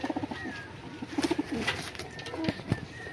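Domestic pigeons, including lakka fantails, coo softly at close range in a home loft, their low, throaty burbling calls repeating in short bursts amid faint rustling and background noise.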